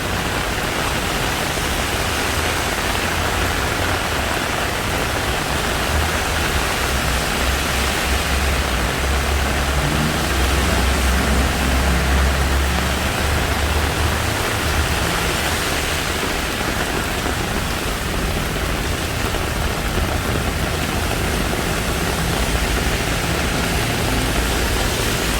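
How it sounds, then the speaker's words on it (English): Heavy rain pours steadily in Bangkok during a thunderstorm, a dense, loud, unbroken wash of falling water and splashing runoff with no voices. "when it rains so much, then everything is flooding"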